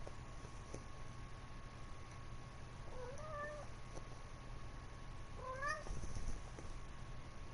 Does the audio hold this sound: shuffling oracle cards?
no